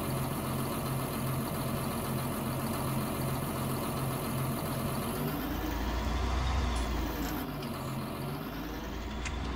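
A John Deere 4755 tractor engine idles in a farming game, a steady low rumble that holds throughout and deepens slightly partway through, loud and constant with no talk.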